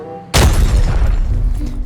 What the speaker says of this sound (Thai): เอาระเบิดเช็คไป